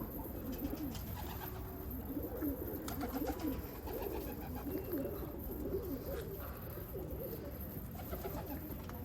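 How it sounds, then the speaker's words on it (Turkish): Pigeons coo repeatedly in a loft, low throaty calls overlapping in a steady chorus throughout, close and fairly loud over a busy background of rustling and wingbeats. "kuşlar doydu ötmeye başladı."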